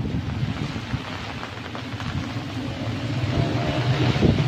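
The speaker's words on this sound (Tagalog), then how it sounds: "My God, ang lakas ng hangin." Strong typhoon wind from a Signal No. 4 super typhoon buffets the microphone in a steady, loud roar that swells toward the end, with no talking over it.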